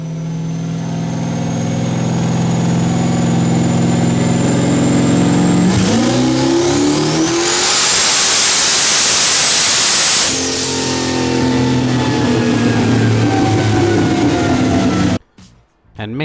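An 800 wheel-horsepower Pontiac Firebird on pump gas and methanol makes a loud, close dyno-style pull, the engine revving steadily upward through a long rising roar before cutting off abruptly near the end.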